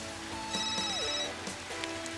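A phone rings softly in the background with a repeating electronic tone, faint against a quiet room.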